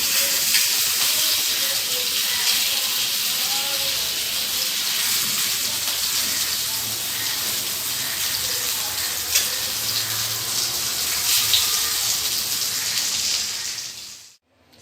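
Stuffed bangda (mackerel) fish frying in a pan, a steady, loud sizzle with crackling oil and steam hiss that carries on evenly for the whole stretch before cutting off abruptly at the end; no one talks.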